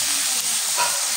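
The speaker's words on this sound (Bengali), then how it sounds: "মাছটা ভালোভাবে কষিয়ে নেব।" Singhi fish is fried and stirred in a pan with vegetables, producing a steady, close, hissing sizzle throughout.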